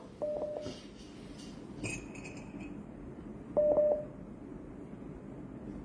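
Telephone keypad dialing tones on a call-in broadcast: a few short steady beeps near the start, a brief higher tone around two seconds, and another clear burst of beeps later, over a low background hiss.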